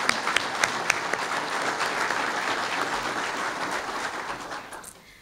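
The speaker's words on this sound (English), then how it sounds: "If you all please give them a round of applause." At a fire chief's swearing-in ceremony, a room of people applauds warmly with a few sharp individual claps up front, holding steady for several seconds before fading out.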